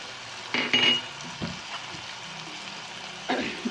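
Turmeric, sambar powder, garam masala and coriander powder frying in a pan, a quiet steady sizzle broken by a few louder bursts of stirring and utensil scrapes.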